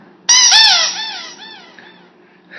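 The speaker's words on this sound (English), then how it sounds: "Sounds like my dog's squeaky toy." One sharp, high-pitched squeak, much like a dog's squeaky rubber toy, rings out loudly, then trails off in several fading, wavering squeals, with a brief chirp at the end.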